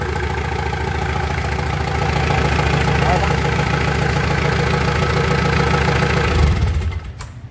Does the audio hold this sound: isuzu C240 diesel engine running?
yes